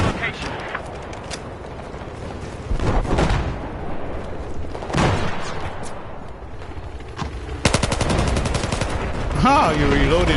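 Automatic gunfire in the shooter Battlefield 4 during a conquest match: loud, close bursts of rapid shots and a dense volley near the end, with a voice speaking between them.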